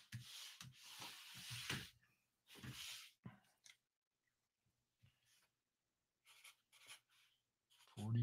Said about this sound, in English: Can't get the paper apart.